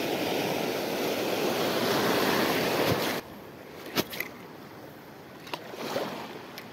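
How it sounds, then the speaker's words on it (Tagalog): Loud, rushing ocean surf fills the first three seconds, then cuts out abruptly to a quieter background with a few sharp clicks. "medyo malakas yung alon."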